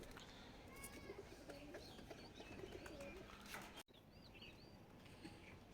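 Pigeons in a loft where they are feeding, with soft cooing and a few chirps over a steady, busy background hum, continuous and moderately close, with a brief dropout near the end.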